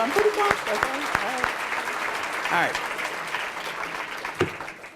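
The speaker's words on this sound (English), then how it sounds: "So can we go ahead and just give everybody a round of applause?" An audience at a high school academic challenge event gives a steady round of applause, with someone speaking over the clapping as it fades.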